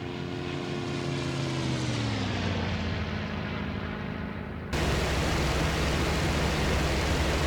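Focke-Wulf fighter plane engine roaring steadily in a flight video game, a loud continuous drone whose pitch drops slowly before the noise abruptly thickens into a harsher roar partway through, with no talk.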